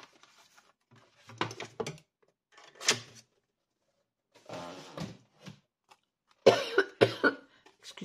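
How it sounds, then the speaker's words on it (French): Several bouts of close, harsh coughing with short pauses between them, a few single coughs followed by a louder cluster near the end. "Excusez-moi, je tousse toujours."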